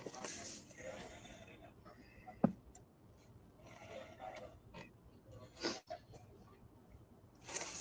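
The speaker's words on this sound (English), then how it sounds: "Yeah, I'll blow my nose here." A person blows their nose in a couple of sharp, wet honking bursts amid quiet rustling and breathing.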